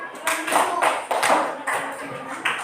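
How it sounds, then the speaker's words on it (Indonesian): Classroom of students clapping for a classmate, a few short quick bursts of hand claps, fairly close, with some voices mixed in. "Tepuk tangan buat Radit."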